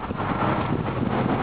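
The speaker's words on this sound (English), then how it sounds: "it's windy out" Wind gusting outdoors during a box truck roof rebuild, a steady broadband rush with mild buffeting against the microphone, close and continuous, with no talking.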